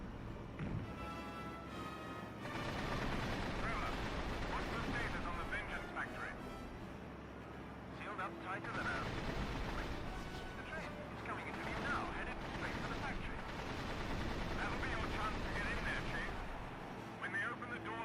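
Gunfire aimed at aircraft in Secret Weapons Over Normandy, a dense, rumbling barrage of blasts and explosions rolling on continuously beneath a roaring engine drone.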